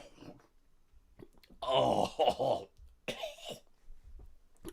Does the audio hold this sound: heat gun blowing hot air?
no